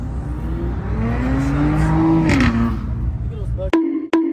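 A Lamborghini Urus with a loud aftermarket exhaust revs hard, its engine note climbing and then dropping, followed by two sharp pops or crackles near the end.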